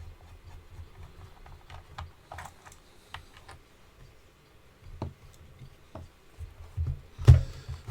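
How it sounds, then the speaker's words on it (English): Small screws holding the belt clip come out of a Sony ICF-PRO80 radio casing, heard as faint, sparse screwdriver clicks and ticks up close, ending in a louder clunk. "we've also got to take these little side screws out that hold the belt buckle on"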